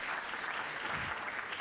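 An audience claps for a speaker at a digital journalism event in Turin, steady dense applause filling the short moment without any voices.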